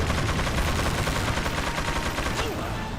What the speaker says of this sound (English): Okay, getting sniped.